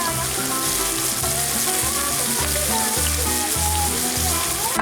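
A big pack of bacon fries in a pan outdoors at an autumn weekend cookout, a steady crackling sizzle held close and fairly quiet, with no talk over it.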